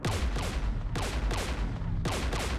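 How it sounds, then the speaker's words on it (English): Rapid bursts of gunfire in Mass Effect 3, loud crackling volleys in quick succession with brief gaps between clusters, close and sharp. "We're taking fire."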